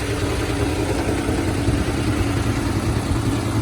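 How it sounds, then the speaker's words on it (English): A restored 1941 Ford pickup's engine idles steadily at close range, a low, even, rumbling drone with no voices. "Engine sounds good."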